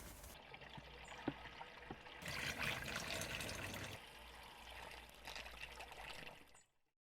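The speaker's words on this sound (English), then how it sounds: "Before we set off, we want to start with a full tank of water." Water is poured from a container into a camper van's water tank, about 10 litres at a time, making a gurgling, splashing stream that grows fuller midway and then tapers off, close by and alone.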